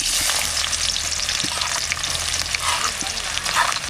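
Chopped onion sizzles steadily in hot white oil in a wok, a dense continuous frying hiss with faint stirring clicks and no voices.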